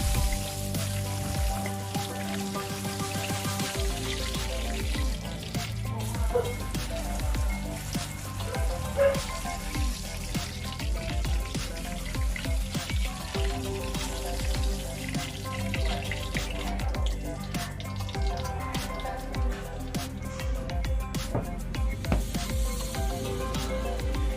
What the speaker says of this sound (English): fry the chickens at a 150 degrees Celsius preheated pan